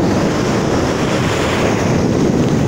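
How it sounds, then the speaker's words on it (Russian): Ocean surf rushes in a continuous loud wash, with strong wind buffeting the microphone the whole time and no voices. "показала вам наш шикарный океан сегодня"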